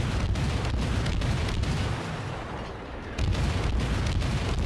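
A Fletcher destroyer in a naval video game fires its guns at an enemy ship, a dense run of loud booming reports with a short lull in the middle before the barrage picks up again.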